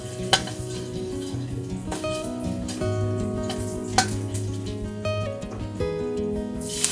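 Garlic and chilies frying in a wok, with a steady sizzle under repeated metal clatter and scraping as the pan is stirred and tossed.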